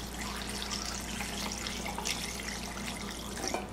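Chicken broth poured into a blender with ground mole ingredients, a steady liquid splash and trickle like running tap water, close and continuous with no talking.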